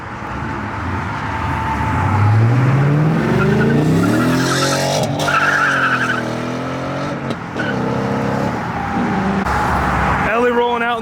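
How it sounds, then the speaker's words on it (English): A Ford Mustang pulls away from a car meet, its engine rising in pitch as it accelerates under loud crowd chatter, with tire noise and the rumble of other cars around it. "Mustang rolling out."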